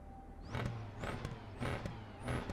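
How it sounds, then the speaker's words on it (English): Simulated engine of a 2-litre, roughly 340-horsepower Honda Civic touring car in iRacing, revving in repeated bursts about every half second with rising whines over a steady drone, close and moderately loud. "Sounds like a rallycross car in iRacing, doesn't it?"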